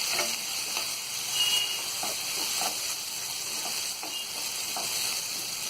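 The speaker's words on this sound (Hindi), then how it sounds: "तो यहाँ ये टमाटर हल्के फ्राई हो गए हैं" Chopped tomatoes with fried peanuts and onion for rava upma sizzle in a pan over a medium flame, a steady close hiss with soft stirring scrapes and no voices.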